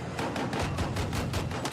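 A dense barrage of gunfire in Battlefield 6, sustained rapid shots and distant blasts that overlap into a continuous, rolling roar.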